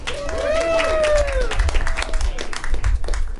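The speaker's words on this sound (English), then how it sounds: "And give yourself a round of applause." Audience applause at a political campaign event, clapping and crowd noise under a voice speaking over it, with scattered claps continuing as the sound thins out toward the end.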